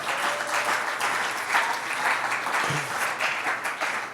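Audience applause at a French-language talk on handling relationships, a steady broadband patter of many hands clapping throughout, fairly loud and even, with no voice over it.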